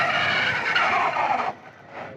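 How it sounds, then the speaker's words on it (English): An electric bike's rear tire skids under hard braking from 35 mph as the back end fishtails: a loud, close rubbery screech lasting about a second and a half, then cutting off abruptly. "You couldn't tell, but my back end was fishtailing."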